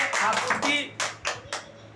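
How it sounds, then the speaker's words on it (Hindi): Students in a classroom clap for themselves after a correct answer, a short burst of quick overlapping claps that thins out into a few separate slaps, with a voice speaking briefly over it. "एक बार अपने लिए ताली बजाओ"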